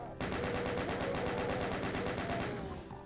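Rapid automatic gunfire in Doom 2 as enemies are shot, a loud, steady burst of evenly spaced shots lasting nearly three seconds before it cuts off.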